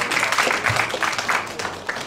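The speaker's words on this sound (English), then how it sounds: "Give yourselves a wonderful round of applause." An audience at an academic lecture applauds, a short patter of clapping with uneven individual claps standing out, moderately loud and close.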